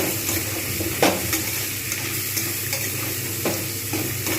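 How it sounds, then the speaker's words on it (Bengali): Potatoes frying with onions in a pan, a dense close sizzle running throughout, broken by a few sharp spatula scrapes and knocks against the metal. "আলুগুলোও কিন্তু আমি পেঁয়াজের সঙ্গে খুব ভালোভাবেই ভাজবো।"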